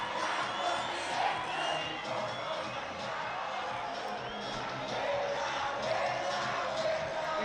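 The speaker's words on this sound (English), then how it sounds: "The home team today, Saldanha Bay, in front of their cacophonous home crowd" Home crowd at a Saldanha Bay football match keeps up a noisy, cacophonous roar of shouts and whoops, steady and fairly distant, with a commentator talking over it.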